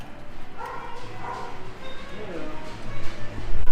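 Dogs in animal shelter kennels give yips and bow-wow barks, scattered and moderately near, layered over a busy room with voices talking throughout and a louder burst near the end.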